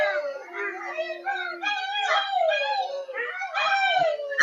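Several dogs howl together in long, wavering, overlapping cries that rise and fall for several seconds, loud and close, with no other sound around them.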